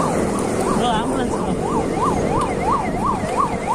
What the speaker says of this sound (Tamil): ஆம்புலன்ஸ்